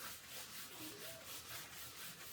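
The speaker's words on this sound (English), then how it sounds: "Just a nice back and forth sanding motion." Rhythmic back-and-forth sanding of paint on a black granite headstone, a soft gritty scraping repeated steadily at an even pace, close and quiet.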